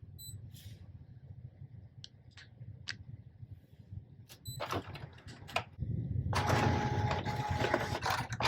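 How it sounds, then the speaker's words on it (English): An Epson ET-8550 printer converted for direct-to-film work runs a print head nozzle check, with quiet ticks and clicks that build into a louder whirring and shuttling carriage movement toward the end. "I'm also going to print the print head nozzle check."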